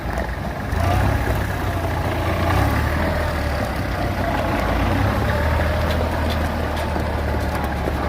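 A small Kubota GL-23 Japanese mini tractor engine idles steadily nearby, a low continuous rumble that picks up slightly after a second and then holds even.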